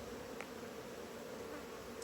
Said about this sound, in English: My goodness, bees.